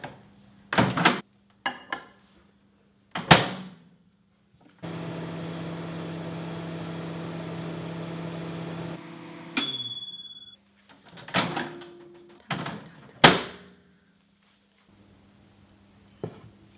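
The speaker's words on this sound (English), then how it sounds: "we're gonna microwave it" A microwave oven heating makeup sponges soaking in water hums steadily for about four seconds, then chimes, with door thunks, clicks and handling knocks before and after.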